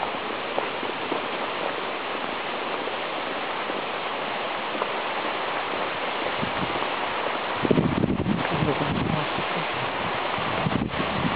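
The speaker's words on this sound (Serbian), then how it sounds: "ovde ovim kanalom ide voda prema Vodenici" Water rushing along a channel toward a wooden watermill, a steady broad wash of flowing water with a few louder splashing surges near the end.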